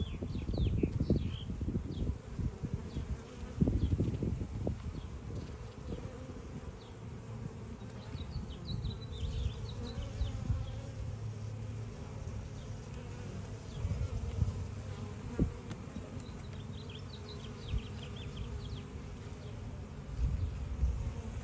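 Honey bees buzz in a steady, close drone during a hive inspection, with occasional louder passes near the ear and soft handling knocks and rustles of frames underneath.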